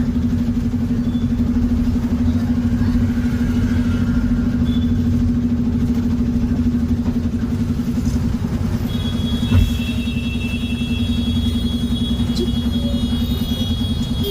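Steady street noise in Chikkodi city: cars and motorcycles idle and pass nearby in a continuous low engine rumble with a persistent hum, one brief thump near the middle, no voices.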